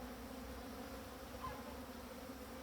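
Honeybees in an open drone-laying hive in winter, a faint steady buzzing hum of many insects heard close by with no talking.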